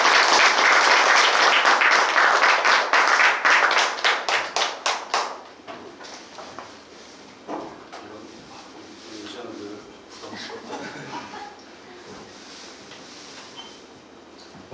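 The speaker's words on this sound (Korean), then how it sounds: "큰 박수 부탁드립니다." An audience claps loudly at a lecture event welcoming two guest speakers, a dense burst of applause that thins into scattered individual claps and fades out after about five seconds, leaving faint room noise and a few taps.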